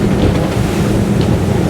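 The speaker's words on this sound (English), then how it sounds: "A lot of wind now. I got white caps coming across the decks." A 2022 Fjord 38 Xpress running fast through choppy water with whitecaps: a constant loud roar of wind buffeting the microphone over rushing spray and hull slap, with no voices.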